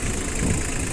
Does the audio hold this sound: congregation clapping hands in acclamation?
no